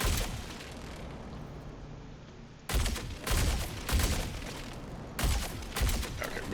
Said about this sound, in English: Where's that guy that's shooting at me?